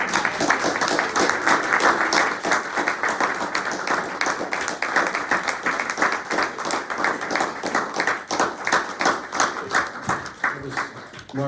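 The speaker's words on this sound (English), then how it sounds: "one more round of applause for all tonight's great readers" A room full of people claps for an evening's poetry readers, dense and steady applause sustained for several seconds before thinning out at the end.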